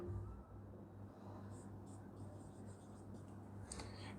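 Writing during a lecture on mathematical functions, with faint, scratchy strokes that come in short bursts over a low, steady room hum.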